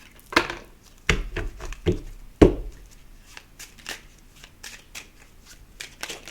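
Playing cards handled and shuffled alone, with several sharp slaps and riffles early on followed by a run of softer, quicker flicks and rustles.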